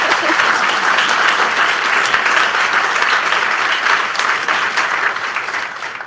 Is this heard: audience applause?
yes